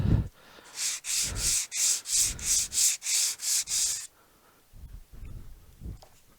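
About ten rhythmic back-and-forth sanding strokes on a small part rasp loudly up close, then stop, followed by a few soft scrapes and handling noises.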